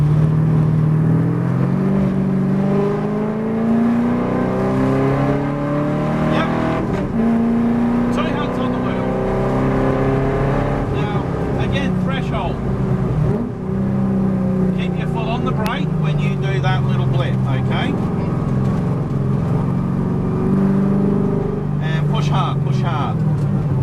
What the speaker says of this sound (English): So as the car slows, increase the pressure on the brake pedal.